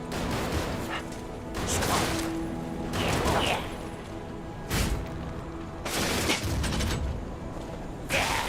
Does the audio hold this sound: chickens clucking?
no